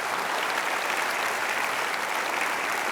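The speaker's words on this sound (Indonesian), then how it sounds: "Jadi kita berikan aplaus untuk Edwin." An audience applauds for Edwin, a guest at a talk-show style event, with steady, dense clapping that fills the whole stretch evenly and without pause.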